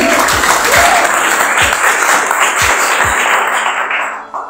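Audience at an Indonesian MLM business seminar claps in a dense, steady burst of applause that fills the room throughout, thinning slightly near the end.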